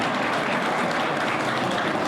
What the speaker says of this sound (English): Give yourself a round of applause for being in person again.